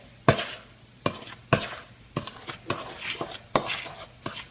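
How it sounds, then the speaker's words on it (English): A spoon knocks against a bowl while flour, sugar and spices are stirred together, giving seven or eight sharp close clinks at uneven intervals over soft scraping. "Then we combine these ingredients in the bowl."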